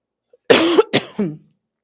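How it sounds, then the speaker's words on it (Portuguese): A person coughs close by, a couple of harsh bursts in quick succession with a short gap between them. "vamos ver se a tosse vai deixar"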